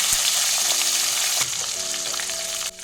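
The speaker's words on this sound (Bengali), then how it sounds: "তো এবার নুন হলুদ মেশানো মাছটা দিয়ে দিলাম" Loud, steady sizzling of a fish head coated in salt and turmeric frying in hot oil, close up and continuous, with no talking.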